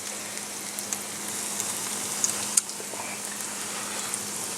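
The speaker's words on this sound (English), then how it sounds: "Let that fry up." Eggplant slices sizzle in hot oil in a frying pan, a steady close crackle with a few sharper pops, no voices.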